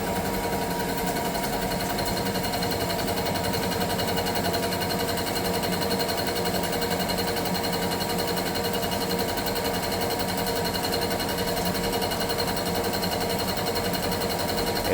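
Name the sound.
large milling cutter cutting metal at 700 RPM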